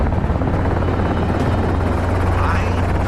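Steady thudding rotor drone of a helicopter in flight, loud and continuous, with a low pulsing beat throughout.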